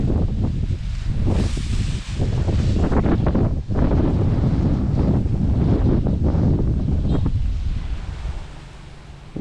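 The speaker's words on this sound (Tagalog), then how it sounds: "Grabe lakas ho ng hangin." Strong wind gusting across an open, elevated vegetable plot of beans and mustard greens, roaring steadily into the microphone with loud buffeting bursts throughout and no talking.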